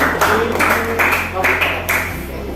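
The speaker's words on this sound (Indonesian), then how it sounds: "Beri tepuk tangan untuk nomor 1." Rhythmic clapping rewards a correct answer during a teacher-training lesson, with a steady beat of claps over a constant electrical hum and some nearby voices.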